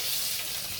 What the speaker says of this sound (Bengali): প্রথমে একটু তেল দিলাম মাছ ভাজি করবো